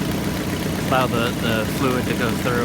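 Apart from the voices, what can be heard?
1995 Jeep Wrangler engine running, idling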